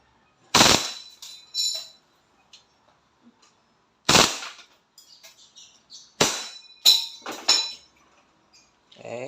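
A WE Hi-Capa airsoft pistol fires on full automatic in several short, sharp bursts of snapping, metallic clacks, close and loud, separated by near silence with small clicks of handling between them.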